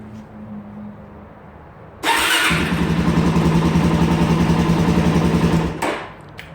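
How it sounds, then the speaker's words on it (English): A motorcycle fitted with a stunt clutch starts in neutral after a low idle-like hum, then its engine catches loudly and runs at a steady, rapid putter close by for several seconds before cutting off. "make sure your bike is in neutral and start it up to see how it works without pulling in the clutch lever"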